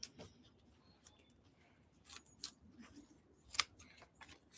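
Scissors snip intermittently while trimming the plants of a hanging basket, producing faint, scattered clicks and cuts with quiet gaps between them.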